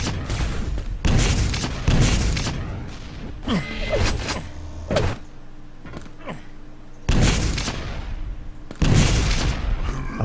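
Rocket launcher fire and explosions in a Quake match echo in loud, repeated bursts of booming blasts with quieter stretches between, no talk over them.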